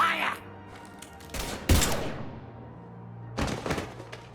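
Gunfire crackles out in the video game Mass Effect 3 as a couple of sharp bursts rise over an ambient hum and game voices, with a final burst near the end.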